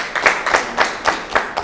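An audience claps steadily at a hotel event in Gitega, Burundi, with a series of sharp, fairly close hand claps in an uneven rhythm that continues throughout.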